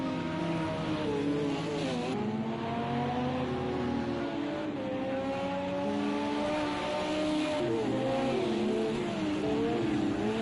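Race cars in a racing video game sweep through a harbor chicane, engines droning and shifting pitch as they brake and accelerate, steady and fairly faint, with no voices.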